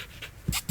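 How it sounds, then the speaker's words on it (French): A dog pants in short, quick breaths close by, with a couple of louder puffs near the end of the brief moment. "Donc c'est un chien."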